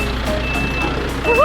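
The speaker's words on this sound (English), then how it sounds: "this is a Mazda tow truck towing a Mazda." A Mazda tow truck, hauling a broken-down Mazda during a car convoy in Malaysia, gives a steady reversing beep over engine rumble. A rising electronic chirp follows at the end.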